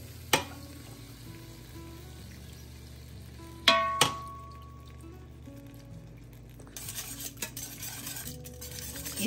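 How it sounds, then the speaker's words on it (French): Whisk sharply tapping and scraping in a pot as broth goes into vegetables and cooked flour, a few distinct clinks, then a soft bubbling sizzle. "je fouette en intégrant le bouillon à mes légumes pour s'assurer qu'on n'ait pas de grumeaux de farine"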